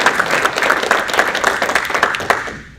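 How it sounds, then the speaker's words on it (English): Audience applause at a Rotary Club meeting in Jonesboro, North Carolina, a dense burst of many hands clapping at once that holds steady for over two seconds and then fades out quickly. "let's give them a big round of applause."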